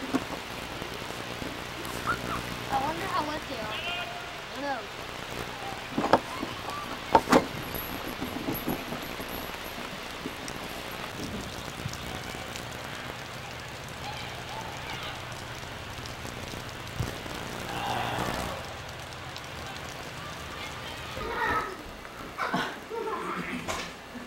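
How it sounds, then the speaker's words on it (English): Steady pouring rain falling outdoors during a family reunion gathering, a continuous hiss of drops on surfaces lasting throughout, with occasional knocks and faint voices in the background. "Pouring down rain, and the big people"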